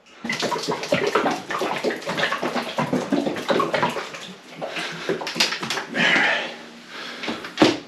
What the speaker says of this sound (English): Something I didn't do is have the paint store shake this up, so I have to do it myself.